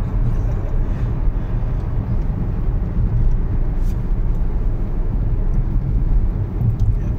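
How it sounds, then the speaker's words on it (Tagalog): Jet airliner landing at Oman International Airport, heard from the arrival area as a steady, loud low-frequency roar that holds without breaks throughout. "Bumaksak na aeroplano."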